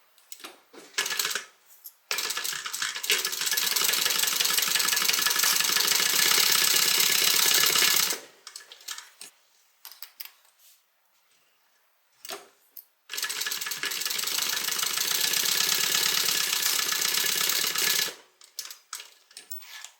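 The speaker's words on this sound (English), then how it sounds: "we're just going to stitch using a 1/4 inch seam allowance on each side" A sewing machine stitches a quarter-inch seam on a small tote bag in two long, loud, steady bursts of rapid whirring, separated by quiet pauses and brief handling clicks.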